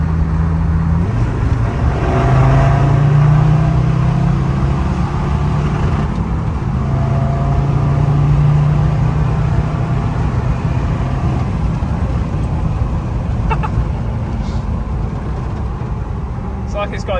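Tuned Land Rover Defender on a test drive, its engine droning and rising as it revs and pulls through gears, heard from inside the cabin with steady road noise throughout.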